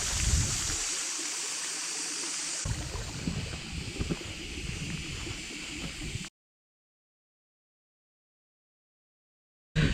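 Rushing water of the Chikhale (Chigule) waterfall near Belagavi roars steadily for several seconds with wind noise mixed in, then cuts to silence before a brief burst returns at the end.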